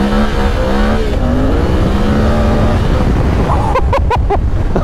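A Suzuki V-Strom 800 motorcycle slides sideways off-road with its engine held at high revs. The loud, steady drone rises and falls, and choppy bursts near the end suggest wheelspin and throttle cuts.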